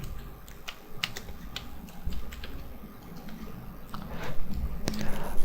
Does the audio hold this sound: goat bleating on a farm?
no